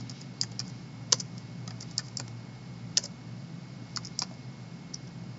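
Computer keyboard typing while filling in a writing-packet citation, with sparse individual key clicks and occasional sharper strikes over a steady low room hum, close and without talk.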